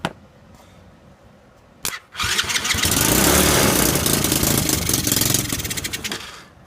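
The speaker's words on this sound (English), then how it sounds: "this is a cold start right now. Cold start. It starts up and it idles." A 125cc semi-automatic four-speed ATV engine doing a cold start: a brief crank, a pause, then the engine catches and settles into a loud, steady, close idle that begins to falter near the end.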